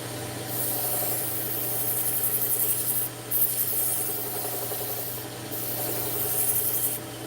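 A knife edge is stroked along a 2000 grit ceramic honing rod, producing steady raspy rubbing passes with two short pauses between strokes, close and moderately quiet.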